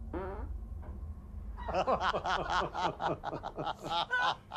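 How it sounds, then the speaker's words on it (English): A fart goes off among people at a team-building event, followed by a burst of snickering and breathy laughter from several people close by. "I just farted"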